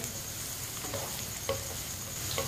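Ridge gourd (tori) frying in a pan while being stirred with a spoon, giving a steady soft sizzle with faint scraping clicks from the spoon, fairly quiet and without speech.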